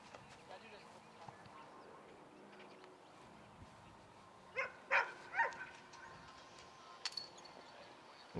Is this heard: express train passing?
no